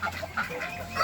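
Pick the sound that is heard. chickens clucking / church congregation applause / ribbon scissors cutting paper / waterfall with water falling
chickens clucking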